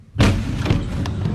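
Chemical warehouse explosion in Tianjin, China, captured on amateur footage: a sudden loud, deep boom that rolls on as a sustained rumble.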